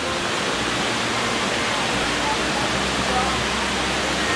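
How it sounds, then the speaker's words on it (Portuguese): A waterfall in the Atlantic Forest near Praia Preta, Guarujá, pours as a steady, close, broadband rushing of falling water that fills the whole stretch without pause. "se refrescar numa cachoeira."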